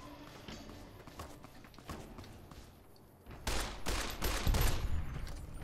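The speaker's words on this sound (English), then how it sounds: "Where am I being shot at from?" Gunfire in Fallout New Vegas: sparse distant shots early on, then from the midpoint a louder run of close, rapid bursts against a busy game soundscape.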